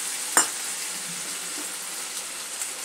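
Eggplant frying in a pan just after a light sprinkle of water, a soft steady sizzle with a brief sharp spatter near the start, close by and without talk.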